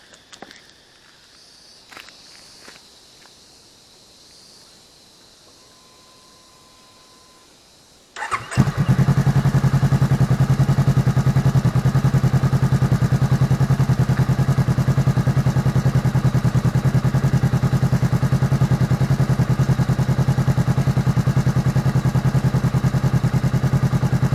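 A 2013 Honda CB500X motorcycle fitted with an aftermarket exhaust starts up after quiet handling noises, then settles into a loud, steady, close-up idle rumble that runs without interruption, with no talking.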